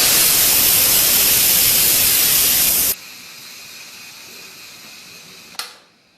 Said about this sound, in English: you just turn the steam release handle to the venting position